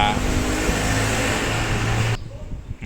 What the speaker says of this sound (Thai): เสียงรถบรรทุกก็เข้า